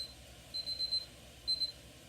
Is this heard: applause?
no